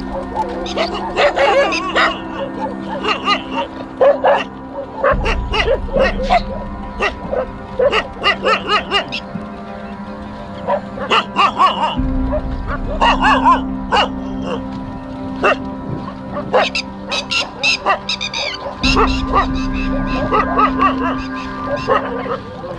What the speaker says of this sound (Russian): Это бродячие собаки, лают они не на меня.